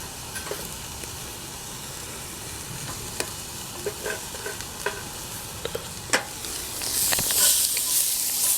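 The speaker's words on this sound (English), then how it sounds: "Gonna keep those onions and tasso moving" Onions and tasso, a spicy cured Cajun pork loin, frying over a wood-fuelled Solo Stove, a steady close sizzle broken by scattered sharp scrapes and clicks of stirring, swelling louder near the end, with no voices.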